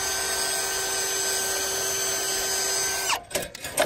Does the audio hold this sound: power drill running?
yes